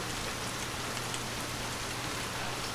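Steady rain pours down near Periyar waterfall at Karumandurai, a dense, even hiss of drops on surfaces with no pauses and no voices.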